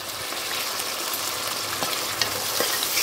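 Sliced onions and chickpeas fry and sizzle for a curry, with a steady crackling hiss close up and occasional stirring clicks.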